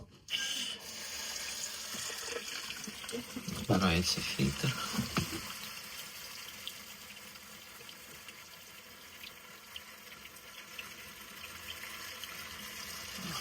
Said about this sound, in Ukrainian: до третього фільтру без мембрани поки що і подаємо воду, щоб промила пил